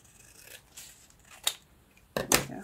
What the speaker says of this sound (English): Let's trim this up a little bit.